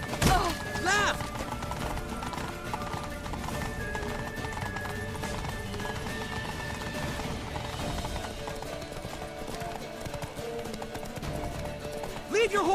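Horses gallop under steady clip-clop hoofbeats in The Witcher 3 during a tense escape to a temple, with whinnies, game effects and shouting voices layered over a continuous, busy bed of sound.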